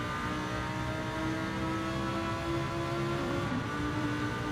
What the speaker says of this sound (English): He's revving it out.